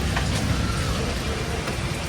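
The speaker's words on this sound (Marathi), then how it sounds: "भरपूर पाऊस आहे." Heavy monsoon rain pours on a city street on the way to the Fort Cha Raja padyapujan, a steady, dense wash of noise that fills the whole stretch without a break.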